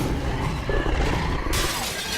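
Glass shattering in The Wolf Among Us video game, a loud, sustained crash of breaking glass with a rumbling roar beneath, filling the whole moment without any speech.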